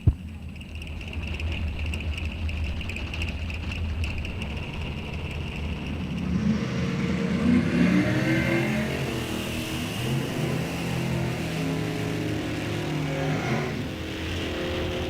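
Drag race cars run down the strip at an ET bracket series event on Sunoco race fuel, a steady loud engine roar that swells midway, then the car lifts off the throttle and coasts across the finish line.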